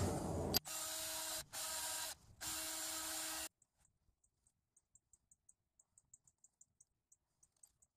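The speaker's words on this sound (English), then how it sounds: "I'm going to wire brush that." A wire brush scrubs a corroded bolt from a Honda Accord 2.4L A/C compressor job in several loud, harsh power-driven bursts with brief gaps, followed by a quiet stretch of faint, evenly spaced ticks.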